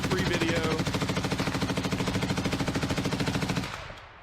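Sustained automatic gunfire from the video game Arma 3, one long rapid and steady rattling burst, loud and close, that cuts off near the end, with a voice talking faintly underneath.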